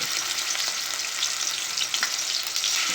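Two spoonfuls of garlic-ginger paste fry in hot oil for a tadka, giving a loud, steady, close-up sizzle with faint crackles and no voices.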